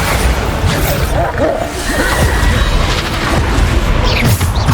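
Bombarda blasting spells going off in Hogwarts Legacy, a dense barrage of loud booming explosions and crashing impacts with whooshes, steady and loud throughout under game combat noise.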